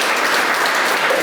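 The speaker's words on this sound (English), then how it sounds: "Give a round of applause to them." Audience at a recreation center ribbon cutting applauding the mayor's administration team, a dense, steady burst of clapping heard briefly and close, with no talk over it.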